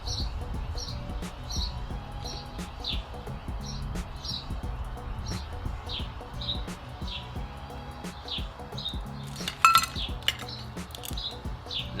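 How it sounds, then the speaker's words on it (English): Mojito strained over ice into a mint-filled highball glass, with light clinks of ice and glass, and a burst of rattling near the end; steady background chirps run throughout. "strain it over your ice-filled mint leaves highball"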